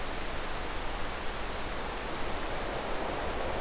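Broadband noise from a Surge software synthesizer runs steadily through a filter with its feedback raised, a dense, even hiss with slight uneven coloring. It sounds continuous and moderately loud, with no voice.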